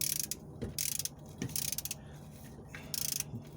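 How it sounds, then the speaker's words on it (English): A 1/2-inch drive ratchet tightens a 7/8 socket on the oil cooler bolt of a 2012 Nissan Versa 1.6, giving a few short bursts of rapid clicking separated by brief pauses, close and clear with no talking. "get your 7/8 socket and 1/2 inch ratchet, 1/2 drive ratchet, and you're gonna start tightening it up"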